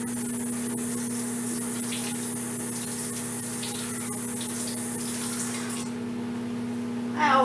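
Tap water runs in a steady, close stream while food for a green bean and mushroom casserole is rinsed under it, then cuts off near the end.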